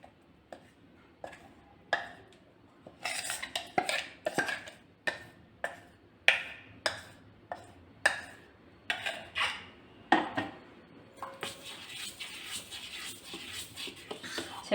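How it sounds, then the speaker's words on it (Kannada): Ragi idli batter made from finger millet is stirred in a metal vessel, giving a series of sharp clinks and scrapes at an uneven rhythm, close by, turning into a denser, continuous scraping toward the end. "ಚೆನ್ನಾಗಿ ಕಲಸೋಣ. ಫುಲ್ ಎಲ್ಲ ಮಿಕ್ಸ್ ಆಗೋ ಥರ ಕಲಿಸ್ಕೊಬೇಕು."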